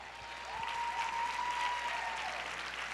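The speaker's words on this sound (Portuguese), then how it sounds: "Aplauda o Senhor" A church congregation applauds steadily throughout, a dense even wash of clapping under a faint sustained tone, with no speech.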